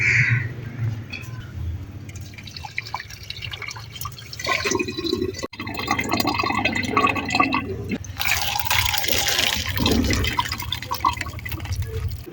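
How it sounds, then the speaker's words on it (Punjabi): Water pours and splashes steadily as it drains off boiled rice, a continuous gushing with a few bumps and clatters of a pot. "ਚਾਵਲ ਜਿਹੜੇ ਨਾ ਬਾਇਲ ਹੋ ਗਏ ਤੇ ਹੁਣ ਇਹਨਾਂ ਦਾ ਪਾਣੀ ਗਿਰਾ ਦਿੰਦੇ"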